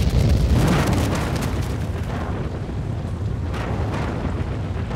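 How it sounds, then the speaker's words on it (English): A deep, roaring rush of fire and rumbling noise swells loudly and then sustains as the Hindenburg airship bursts into flame, like a large blaze erupting and burning. "And then it just burst into flame."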